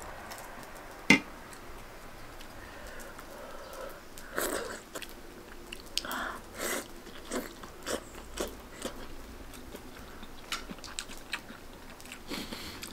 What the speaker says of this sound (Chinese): 我来尝一下那个羊肉